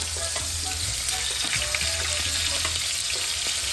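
Shrimp frying in oil in a pan after being browned and flipped, for shrimp scampi: a loud, continuous close crackling sizzle with a low steady hum underneath, no talking.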